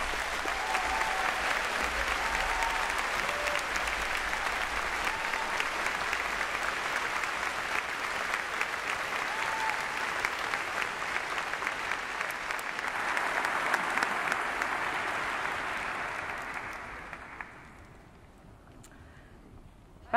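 A large audience at a university commemoration day ceremony for Faculty of Natural Sciences graduates claps in a dense, steady wash for about seventeen seconds before the applause thins out and fades to near quiet.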